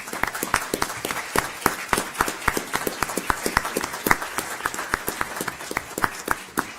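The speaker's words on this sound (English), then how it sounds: "let's give them a round of applause." An audience at a county school board meeting claps for a championship boys team, with distinct individual claps in a quick, uneven rhythm that stay fairly close and continue steadily without a break.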